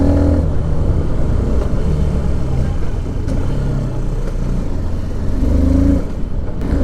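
An NK 150 dirt bike engine runs loud and close, with a steady rumbling idle rising into a few revving swells.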